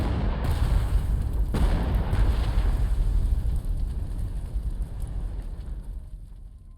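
Artillery fire in the strategy video game Panzer Corps 2, a dense, continuous rumble of overlapping booms that rolls on without break and fades slightly toward the end, with no talking.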